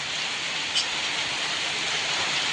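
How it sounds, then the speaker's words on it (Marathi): Steady rain falls in a dense, even hiss, close and unbroken throughout, with one faint brief tap partway through. "चांगला पाऊस पडलाय"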